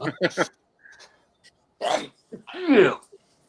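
A person sneezes loudly in a short burst near the end, with a few throat sounds and small noises before it in an otherwise quiet room.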